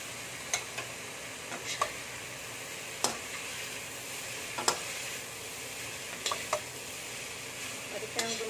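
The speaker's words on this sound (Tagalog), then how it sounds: "Gumamit ng dalawang sandok para mahalo na ibig." Two ladles stirring fried tofu in a sizzling pan, with steady frying hiss and scattered sharp metallic scrapes and clinks close by.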